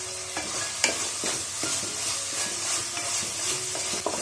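Chopped coriander leaves are stirred into rice masala sizzling in a pan, with repeated scraping clicks of the spoon over a constant, moderately faint frying hiss and no talk.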